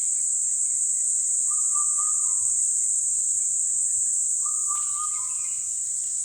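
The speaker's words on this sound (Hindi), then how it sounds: "यहाँ पर आप पक्षियों की चहचहाने की आवाज़ सुन सकते हैं।" Birds chirping near a forest area along a railway line being converted from metre gauge, with a few short, thin calls standing out over a constant high insect drone and a low rumble, no one talking.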